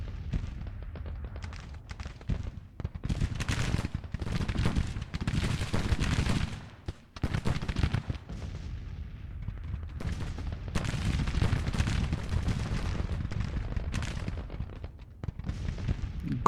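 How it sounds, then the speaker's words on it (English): Artillery and rifle fire in the Civil War strategy game Grand Tactician, a continuous crackling fusillade of shots and booms, dense and irregular, with distant cannon thuds throughout. "Guns are running as well."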